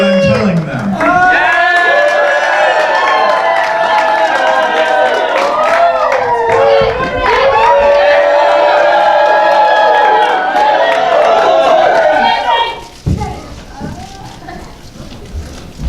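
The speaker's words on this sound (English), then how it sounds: "Now let's cheer so that they can't hear what I'm telling them." A crowd of clubbers at a showcase cheers and shouts loudly for about twelve seconds, a dense wall of voices and whoops with some clapping, then drops off abruptly.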